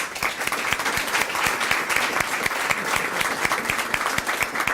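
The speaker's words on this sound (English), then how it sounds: "let's everyone stand and give him a great round of applause" A standing audience at a high school Student of the Month ceremony claps steadily, loud and continuous applause with distinct individual claps throughout.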